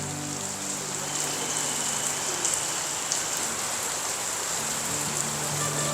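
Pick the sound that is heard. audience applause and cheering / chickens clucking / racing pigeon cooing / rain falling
rain falling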